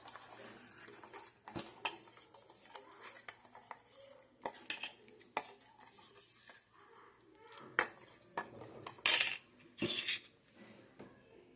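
A spoon clinks and scrapes irregularly against a pot while stirring instant Manchow soup mix into hot vegetable water, with faint voices murmuring between the clattering strokes.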